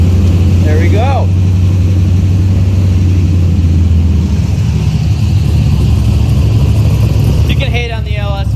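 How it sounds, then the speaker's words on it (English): The LS V8 engine of a swapped old Datsun drones loud and close at a steady pitch while the car drifts, with a deep low hum beneath and brief voices breaking in at the start and again near the end. "You can hate on the LS swaps all you want, but gosh dang, that sounds good"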